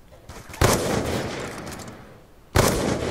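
Two sharp gunshots crack out about two seconds apart in a Counter-Strike style shooter game, each followed by a short decaying echo over a quiet background.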